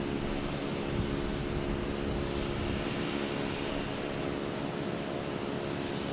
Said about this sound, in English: it was a Boutique Air right here in front of us, just landing